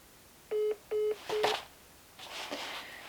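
Phone keypad dialing tones while calling a delivery driver on a house-building site: three evenly spaced beeps, then a muffled rustle and soft handling noise.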